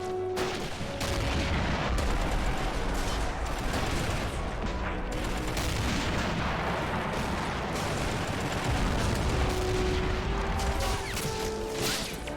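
Continuous artillery shelling in the video game AMOW, a mountain battle with the Red Army attacking: dense, loud booms and crashes overlapping with scattered gunfire, steady throughout with no pause.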